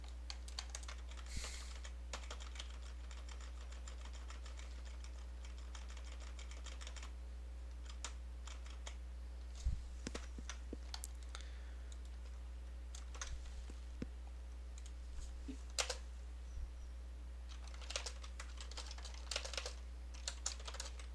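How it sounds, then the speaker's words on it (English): Steady typing on a computer keyboard, with quick irregular key clicks running throughout at a moderate level against a low background hum. "While Jeremy is typing this up"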